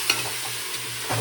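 Vegetables fry in hot oil for a soya chunks veg pulao, a steady soft sizzle with a couple of brief stirring scrapes, close and moderately loud, no voices.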